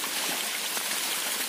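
Heavy rainwater rushes down a mountainside in a steady, close, broadband wash of flowing water, with no voices.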